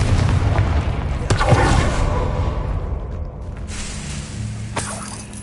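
A Confringo fire-blast spell explodes in the Hogwarts Legacy video game, with a deep booming blast and rumbling tail, followed by a second, lighter impact near the end.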